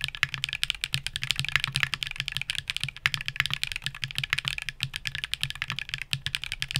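Rapid, continuous typing on a keyboard with Hall effect switches, each keystroke a crisp, close clack in a fast, irregular rhythm, with no voices.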